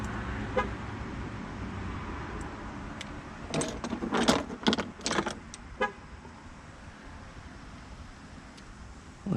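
A parked car being locked: a few quick high horn chirps and clicky jingling bursts in a cluster at moderate distance, over a low background hum of traffic and outdoor ambience near a skatepark.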